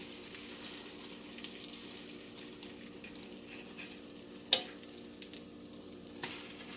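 Breakfast food sizzles steadily in a hot frying pan just after being flipped, a constant close hiss with a sharp utensil clack partway through and a few softer taps, no voices.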